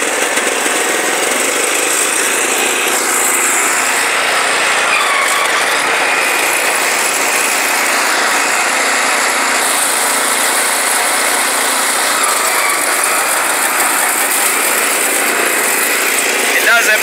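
A 1968 International Cub Cadet 482 lawn tractor engine, carburetor in need of a rebuild, runs steadily and loudly close by for the whole stretch, a dense continuous drone with slight shifts in load.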